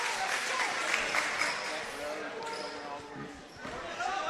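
A crowd at a high school basketball game between ABS and Falkville murmurs and calls out over a disputed drive to the basket, shoes squeaking on the court and a commentator talking over the noise.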